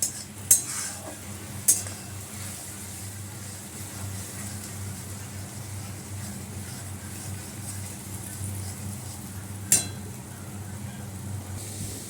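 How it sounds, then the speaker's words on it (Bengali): Onions with ginger paste and chilli powder fry gently in a pan under a low steady sizzle, with a few sharp metallic clinks of the stirring spoon against the pan. "এবার পেঁয়াজটা ভালো করে ভাজা ভাজা হোক"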